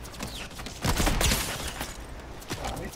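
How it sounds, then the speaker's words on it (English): Rapid gunfire in a Fortnite match, a loud cluster of overlapping shots with a few scattered bursts after, heard alone without talk. "Hold on, I'm getting shot from two places."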